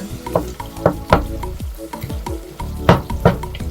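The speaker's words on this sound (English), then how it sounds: "Go ahead and give that a stir." A spoon scrapes and stirs thick tomato paste with hamburger meat in a sizzling frying pan, with repeated clanks and scrapes at a quick, uneven rhythm.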